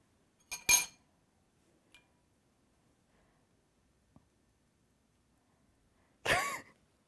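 A spoon scooping a formed Asian meatball off, with a couple of sharp, close cutlery clinks early on, a faint tap later, and a brighter scrape-and-clink near the end, isolated against near silence.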